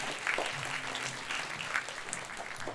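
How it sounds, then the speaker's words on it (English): An audience at a Matilda stage show claps steadily throughout, a full room of applause with occasional cheers rising above it. "nice big round of applause"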